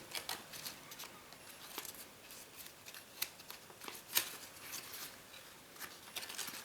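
Paper is reverse folded and creased for an origami Goliath beetle, with soft crinkling, rustling and crisp little snaps scattered irregularly over several seconds, close and quiet.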